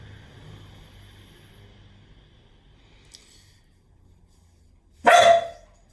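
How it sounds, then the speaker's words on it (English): A dog gives a single loud, close bark near the end, following several seconds of quiet low room noise. "That's my dog."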